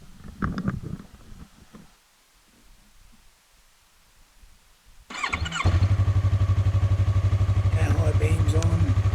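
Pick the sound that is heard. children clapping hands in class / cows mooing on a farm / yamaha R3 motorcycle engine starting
yamaha R3 motorcycle engine starting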